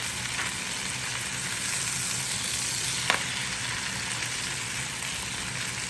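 Honey garlic chicken sizzles steadily in a Power XL cooker as the pieces are turned, a close, constant crackling hiss with a small clack partway through and no talking.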